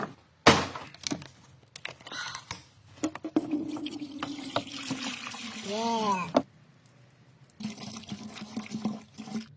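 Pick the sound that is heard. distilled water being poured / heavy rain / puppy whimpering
distilled water being poured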